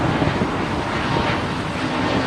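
An Avianca Airbus A320-200neo airliner arrives at LAX with a continuous broad jet roar, loud and steady throughout, with some wind buffeting and no voices.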